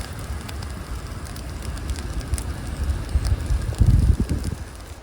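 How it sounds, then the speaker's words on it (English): A campfire of soaked wood burning on a mountain during a winter storm, low crackling and hissing under gusty wind, with a louder burst of pops and crackles near the end. "we got wood here, which is completely wet, but somehow it still burns"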